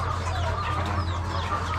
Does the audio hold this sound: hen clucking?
yes